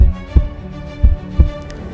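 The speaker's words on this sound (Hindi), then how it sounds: "मेरे दिल की धड़कन मुझे जीवित होने का एहसास दिला रही थी।" Heartbeat sound effect: three heavy, low thumps spaced unevenly over a soft, steady hum, close and prominent with no other sounds.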